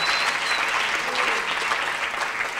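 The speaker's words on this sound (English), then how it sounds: "Can we please give him a round of applause?" An audience at a memorial lecture gives a professor steady, dense applause that holds an even level throughout.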